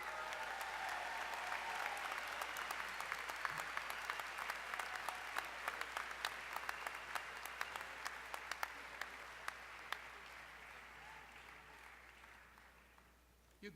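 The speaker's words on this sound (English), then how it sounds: "You can keep applauding if you want." Sustained audience applause at a medical school commencement ceremony, a dense steady wash of many hands clapping that stays loud throughout, then thins and fades near the end.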